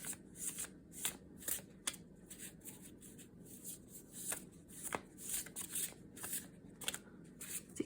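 Tarot cards are shuffled repeatedly in quick, crisp riffling bursts, soft and close, with brief pauses between shuffles and no talking.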